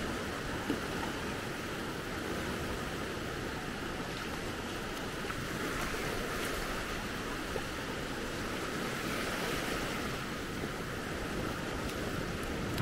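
Atlantic surf on the beach at Maspalomas washes in as a constant broadband hiss and roar, even and moderately faint across the whole stretch, with some wind mixed in and no voices.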